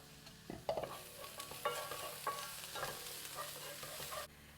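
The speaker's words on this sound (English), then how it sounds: "Now I'm just going to cook the garlic for a couple of minutes." Garlic and golden onions sizzle and fry in a pan, with scraping stirs and clinks over a steady crackle, close and fairly quiet.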